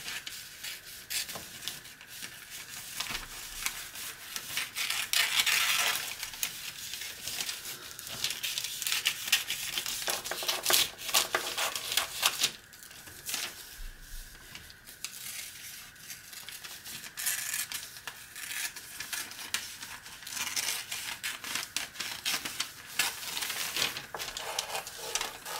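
Scissors cutting fabric for a Christmas stocking, a long run of crisp snipping and crinkling with short rhythmic bursts, close and soft, no talking over it.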